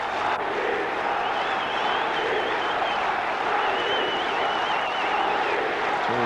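Crowd at the 1996 Cricket World Cup final between Australia and Sri Lanka, a steady, broad roar of cheering spectators filling a stadium, with faint whistles or horns above the din.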